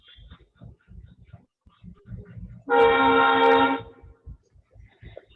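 A train horn sounds for about a second beside a railway station, a loud steady blast standing out over a room where someone talks throughout.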